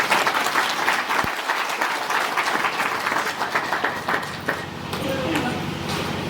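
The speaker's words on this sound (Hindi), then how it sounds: "मैं उनका तालियों की गूंज में अभिनंदन करना चाहता हूँ" An audience claps loudly in honour of volunteers at a spiritual gathering in Kalapahar, Manipur, a dense sustained applause that gradually thins toward the end.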